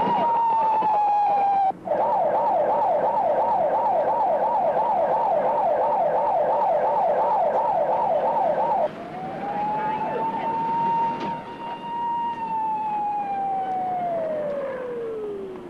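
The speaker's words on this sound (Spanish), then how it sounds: "Una ambulancia está en camino." A loud emergency siren moves from a slow wail into a rapid yelp, then back to a long rising and falling wail, close and dominant with no voices, as an ambulance arrives on a city street.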